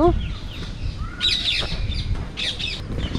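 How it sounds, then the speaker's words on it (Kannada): Parrots call outdoors in a few scattered, sharp squawks and chirps over a rumbling background. "ಸೊ ಪ್ಯಾರೆಟ್ಸ್ದೆಲ್ಲ ಒಂದಿಷ್ಟು ಕೂಗಿದ್ದನ್ನು ಕೇಳಿದಾಯಿತು"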